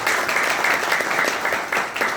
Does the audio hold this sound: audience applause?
yes